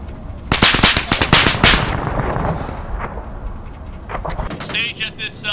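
Loud bursts of gunfire and heavy automatic weapons crack close by in an ArmA 3 military simulation convoy battle in Fallujah, followed by sparser distant shots with a voice talking underneath.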